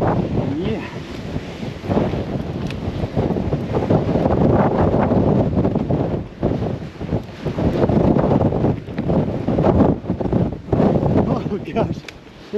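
Strong wind along desert cliffs buffets the microphone in loud, rumbling gusts that rise and ease, with a voice partly audible beneath the roar.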